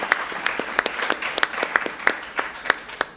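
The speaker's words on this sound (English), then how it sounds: "Let's give Irene a round of applause, ladies and gentlemen" An audience claps steadily in a brief burst of applause, the individual claps sharp and rhythmic, with no talking over it.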